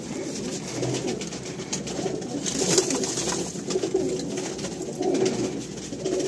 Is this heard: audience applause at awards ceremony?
no